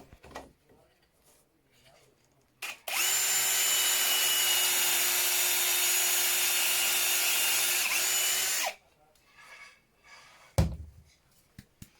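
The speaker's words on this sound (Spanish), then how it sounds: "Una vez hemos hecho los agujeros para los tarugos" A power drill bores dowel holes in recycled wood for a drawer extension, producing one loud, steady high whine for about six seconds, preceded and followed by quiet handling noises and a sharp knock near the end.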